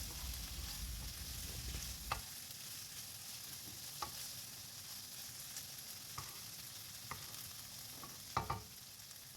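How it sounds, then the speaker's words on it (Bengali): Fried soybeans stirred with spices in a pan: a quiet, steady sizzle with a few soft spatula scrapes every couple of seconds, close by and free of speech. "সয়াবিনগুলো দিয়ে দেওয়ার পর মশলার সাথে ভালো করে সয়াবিনগুলোকে একটু নেড়ে চেড়ে নেব"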